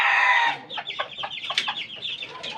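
Backyard chickens cluck steadily at close range while chicks are fed chopped leaves, a run of short clucks and chirps following a brief opening noise.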